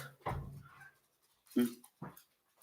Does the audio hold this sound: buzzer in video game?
no